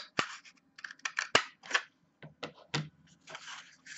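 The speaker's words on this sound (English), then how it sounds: "I took a toilet paper roll and I just cut it down the center, or long ways." Scissors cut lengthwise through a cardboard toilet paper roll, making a quick, irregular run of crisp snips and crunches, close up and alone.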